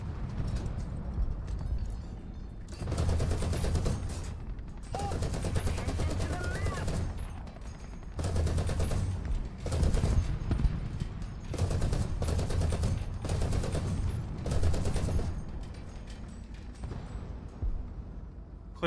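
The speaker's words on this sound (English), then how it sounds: "I guess that's a machine gun for the previous tank." Bursts of tank machine-gun fire in War Thunder, several sustained rattling volleys separated by short pauses, fairly loud over a constant rumbling engine bed.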